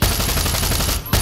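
Gunfire in the video game Far Cry 6: a loud, fast burst of automatic shots rattling evenly, a brief gap, then firing resumes at the very end.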